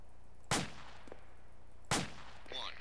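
Two loud, sharp M16A4 RCO rifle shots in the video game ARMA2, about a second and a half apart, each with a short decaying echo.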